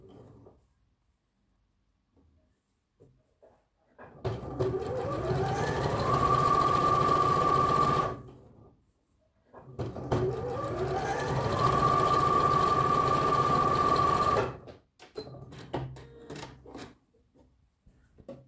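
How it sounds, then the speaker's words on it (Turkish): Sewing machine stitching the pocket opening of a tracksuit in two steady, fast runs of several seconds each, with a short pause between them and fabric handling before and after. "1 santim paydan şimdi ceplerimizi buradan cep ağzını dikiyorum"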